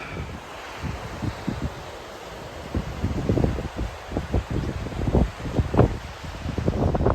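A waterfall on the Leck Beck river in the Yorkshire Dales gives a steady broad rushing wash, heard from a distance, with gusty wind buffeting the microphone throughout.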